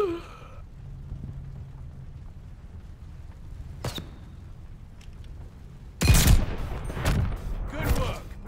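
Double-barrel shotgun fire in Call of Duty: Vanguard, a sharp crack near the middle, then a loud burst of blasts and clatter in the final seconds after a quiet stretch.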